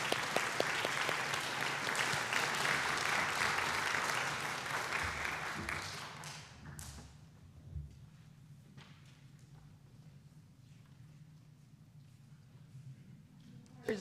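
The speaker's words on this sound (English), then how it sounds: "A round of applause." A congregation at a Sunday service applauds in a dense, steady wash of clapping for the coming-of-age youth, then the applause dies away to a quiet room with a few scattered sounds.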